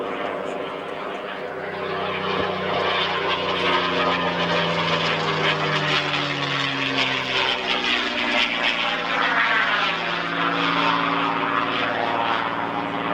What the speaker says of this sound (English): Gorgeous sound of the Rolls-Royce engine of a P-51.